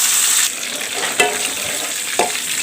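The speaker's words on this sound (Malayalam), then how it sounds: "അതിലേക്ക് നമുക്ക് കടുക് ഇട്ട് കൊടുക്കാം. പിന്നെ കുറച്ച് കറിവേപ്പില കൂടി ഇട്ട് കൊടുക്കാം." Mustard seeds and curry leaves hit hot coconut oil, loud close sizzling and frying crackle with a few sharp pops and stirring scrapes, no talking.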